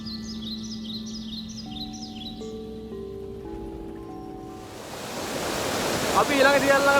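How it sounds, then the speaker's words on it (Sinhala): The largest waterfall at Rangala, Sri Lanka, swells into a steady broadband rushing roar over the second half, growing louder after quieter, tonal sounds at the start, with a brief voice near the end. "මේක තමයි මෙහි තියෙන ලොකුම දියැල්ල"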